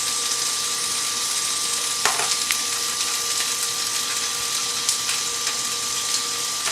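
Edamame sautés in oil with salt and black pepper, giving a constant bright sizzle with a few sharp utensil clicks and scrapes as it is stirred, with no talking.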